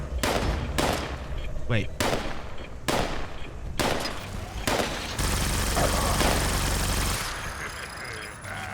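Shots ring out at an enemy in Fallout 76, a series of loud, close single blasts spaced about a second apart, then a sustained burst of rapid fire, with a brief spoken word in between.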